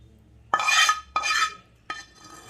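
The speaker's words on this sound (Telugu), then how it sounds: "అంతా బాగా కలుపుకోవాలండి." A spoon stirring mango pickle (avakaya) with sesame oil, three close, wet scraping strokes with short pauses between.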